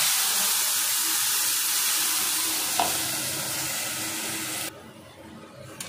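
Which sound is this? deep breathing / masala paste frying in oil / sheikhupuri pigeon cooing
masala paste frying in oil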